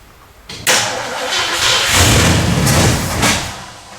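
A flooded Ford 289 V8 in a 1964 Galaxie cranks, catches with a loud thump and revs roughly for a few seconds before sagging and fading, close and alone.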